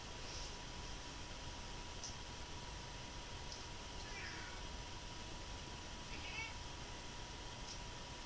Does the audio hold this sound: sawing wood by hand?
no